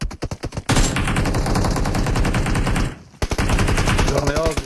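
Rapid automatic gunfire rattles loudly in a video game, a fast burst, a long sustained stream, a brief pause, then more rapid shots with faint tones underneath.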